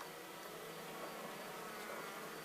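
Honeybees fly around an open hive as a beekeeper shakes them off the frames, making a faint, continuous buzzing hum with no pauses.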